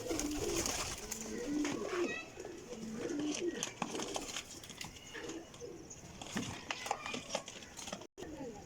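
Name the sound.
teddy pigeon cooing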